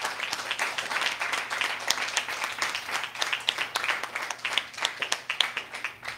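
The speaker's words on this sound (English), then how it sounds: "Somebody clap for Jesus." Congregation applauding during a church service, with steady rapid clapping from many hands filling the space and no voices over it.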